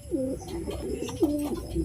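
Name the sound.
pigeon cooing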